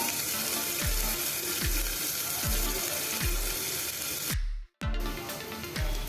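Crushed ginger-garlic and a green chilli sauté in a pan with a loud, continuous close sizzle, punctuated by regular low thuds of the spatula about every second and a brief sudden break in the sound near the end.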